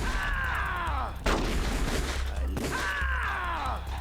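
Gunfire from a boss fight in Metal Gear Solid: The Twin Snakes, two loud bursts of shooting with a sharp onset near the middle, heard over a continuous game soundtrack.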